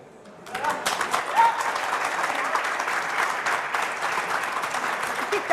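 Audience applause erupts at a televised Hindi news debate show, a dense, steady wash of clapping that swells quickly and holds loud for several seconds, with no talking on top.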